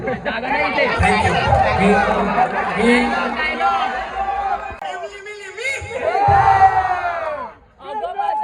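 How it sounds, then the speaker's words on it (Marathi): A large, noisy crowd at a Ganpati arrival procession in Kalyan. Loud overlapping chatter, shouts and chanting voices fill the space, with a brief lull near the end before the voices pick up again. "इथे श्रीमंतात आलाय, फुल गर्दी आहे मागे"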